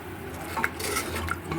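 Spoon stirring beef with cumin, ginger, garlic and onion pastes in a pot, a steady scraping and mixing over soft background hiss.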